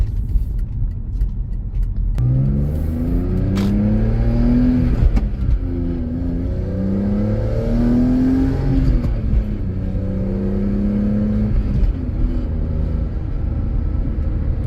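A 2005 BMW M3 with Dinan tuning drives and accelerates through short, close gears, its engine droning loudly from inside the cabin and rising in pitch repeatedly with quick shifts, with no talk.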